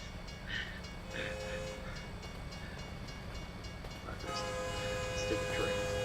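A freight train rumbles past a truck in the American Truck Simulator game, with a continuous low clatter, a few short horn blasts early on and a longer, louder horn tone near the end.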